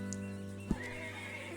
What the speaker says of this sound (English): Hey, it's my horse.